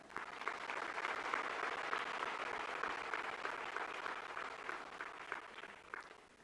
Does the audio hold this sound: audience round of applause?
yes